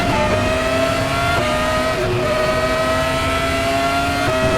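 A Formula race car engine in the RaceRoom Racing Experience sim, driven at Chang Buriram, holds a loud steady high-pitched whine with a couple of shifts in pitch and a hint of tire squeal, with no talking.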